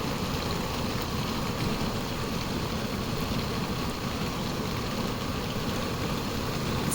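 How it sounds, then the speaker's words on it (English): Heavy rain pours down steadily at a campsite in Arizona, a dense, constant hiss and patter on surfaces with no letup throughout, close and fairly loud with no voices. "it's been raining like ever since we've gotten here, almost every day"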